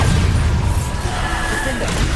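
A Bombarda blasting spell bursting in Hogwarts Legacy, a loud dense crash and rumble filling two seconds with a lingering low roar.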